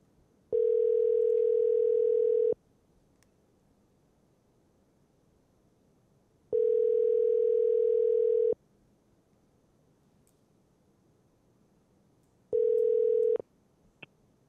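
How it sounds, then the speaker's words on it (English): A telephone call rings out on the line: three steady electronic tone bursts, each about two seconds long, separated by roughly four-second silences, heard clearly and alone. "So let me go ahead and get Chris on the phone"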